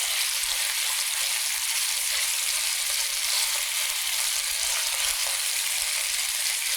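Beef tips browning in a CS Koch Systeme enamel pan give off a steady, close, even sizzle, a continuous frying hiss with small crackles and no talking.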